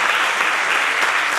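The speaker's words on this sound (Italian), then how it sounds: "Facciamo l'applauso" An audience's dense, even applause fills the whole brief moment, unbroken and fairly loud.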